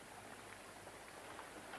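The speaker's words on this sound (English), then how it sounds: "It's still raining" Steady rain falls outdoors as a soft, continuous hiss with faint patter, distant and low in level, with no voices over it.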